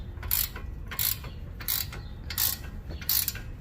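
A ratchet wrench loosens a brake bolt on a Jeep Compass, with five crisp ratcheting clicks at an even rhythm, close and fairly quiet.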